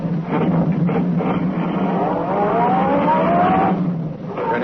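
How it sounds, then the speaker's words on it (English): A sedan accelerates along a concrete road in a radio drama, its engine note climbing steadily and loud and close throughout, with a rising whine toward the end and no voices. "The sedan sped along the concrete after Brinkley's car"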